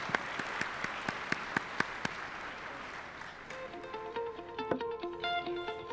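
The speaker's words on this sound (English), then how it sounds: "Can we just have a quick round of applause for our panelists," A quick burst of applause for panelists at an energy industry discussion on LNG, with crisp individual claps that thin out after a few seconds as a voice and music come in.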